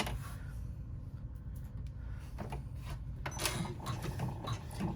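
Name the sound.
embroidery machine stitching a registration line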